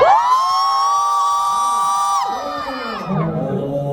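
A concert crowd lets out a loud, sustained collective shout during a sound check, one long cheer held for about two seconds before it breaks off, after which scattered voices trail away into softer chatter.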